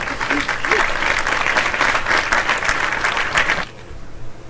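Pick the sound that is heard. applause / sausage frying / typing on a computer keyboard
applause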